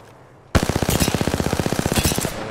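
Rapid automatic gunfire in Apex Legends: a loud, sustained burst of evenly spaced shots in a fast rhythm lasting about two seconds, sharp and close.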